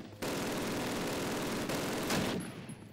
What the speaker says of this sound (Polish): Jak ja kocham tak strzelać, autentycznie.